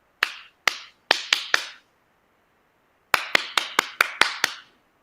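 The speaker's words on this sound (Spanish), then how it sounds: "Yo aplaudo la primera vez, ellos aplauden." A teacher claps by hand to get a class's attention: five sharp claps at an uneven pace, a pause, then a quicker run of seven claps, close and clear in a quiet room.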